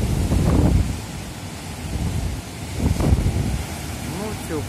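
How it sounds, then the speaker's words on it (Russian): Strong wind roars and buffets the microphone continuously, with gusts swelling and fading and a low rumbling undertone throughout. "Ветер очень сильный."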